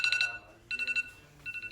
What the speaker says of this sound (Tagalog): nag-alarm na yung timer.